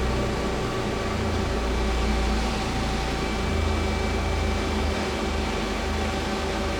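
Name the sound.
Feeler HT-30Y CNC turning center X-axis moving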